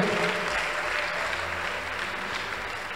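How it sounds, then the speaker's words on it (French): A church congregation claps for the Lord during a worship service, producing dense, continuous applause that stays loud and even throughout, with a faint voice beneath. "Let us clap for the Lord."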